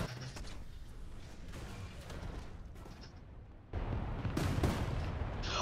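Guns on a Kugelblitz anti-aircraft tank fire in War Thunder. Sharp bursts of rapid shots come against a rumbling battle background and grow louder and denser in the second half.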